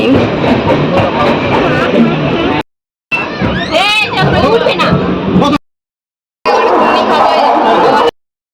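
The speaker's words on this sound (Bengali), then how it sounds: "তো ফাইনালি ট্রেন ছেড়ে দিয়েছে।" A passenger train pulls away after running an hour late and rolls on toward Digha, its steady rattling rumble heard from on board in bursts, with chatter and crowd babble from fellow passengers around it.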